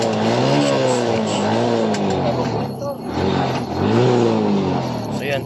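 A Suzuki Smash 115 motorcycle engine idles and revs with no battery fitted, its steady close drone rising and falling in pitch under someone talking.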